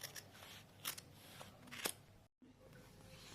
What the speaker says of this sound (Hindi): फिर यहाँ से हम अपनी ऊन को काट देंगे